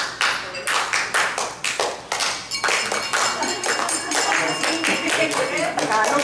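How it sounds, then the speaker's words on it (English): A group of people at a gender equality consultation gathering claps hands together in a lively, uneven rhythm, sharp claps near and loud, with voices talking faintly underneath. "Thank you, everyone, for joining in the clap."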